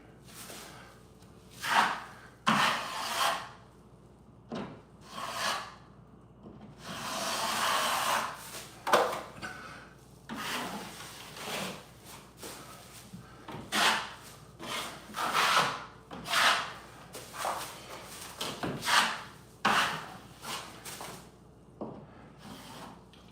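Repeated scraping strokes of a knife spreading drywall joint compound, close up, with a rough, irregular rhythm and no talking.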